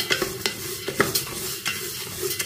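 Sprouted fenugreek sauteed lightly in a pan, soft sizzling under a quick series of close spatula scrapes and taps, with no talking.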